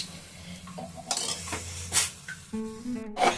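Water poured into a hot pan of chana masala, bursts of hissing and sizzle mixed with clinks of a spoon against the pan and metallic scrapes, brief and close.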